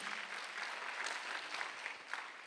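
A church congregation applauds during a Sunday worship service, a dense, even patter of many hands clapping that stays fairly faint and distant throughout.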